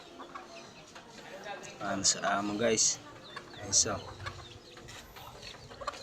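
Several free-roaming chickens cluck faintly in the background while someone talks over them, with a few sharper squawks standing out near the middle.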